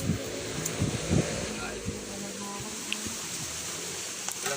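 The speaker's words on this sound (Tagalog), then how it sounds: "Lakas ang hangin eh. Lakas ng hangin." Steady wind buffets the microphone with a low rumbling roar, over faint background noise and a few soft thumps.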